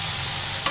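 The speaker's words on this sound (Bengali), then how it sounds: "এখন আমি একটু নাড়াচাড়া দিয়ে" Ginger-garlic paste frying in a pan and being stirred, a steady close sizzle with a single brief scrape of the spoon near the end.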